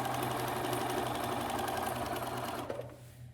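A sewing machine runs steadily while stitching a fabric bunny bag, giving a close, even mechanical whir that stops abruptly near the end and leaves quiet behind.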